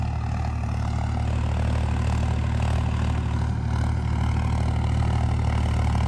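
A Swaraj 963 FE tractor works hard pulling a deep plough through wet field soil, its diesel engine giving a loud, steady low drone with a constant throbbing hum under strain, close by and without talk.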